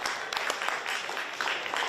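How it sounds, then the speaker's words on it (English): Football supporters of Lions FC applaud a substituted player during an NPL men's match against Brisbane City; steady, distant clapping from the stands runs throughout the brief moment. "He comes off to the applause of the Lions FC fans"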